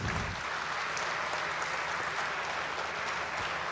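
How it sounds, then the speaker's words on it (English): An audience at a university department degree distribution ceremony gives prize winners a round of applause, a continuous, even roar of many hands clapping in a large hall with no pauses. "Let's give a big round of applause to all the prize winners."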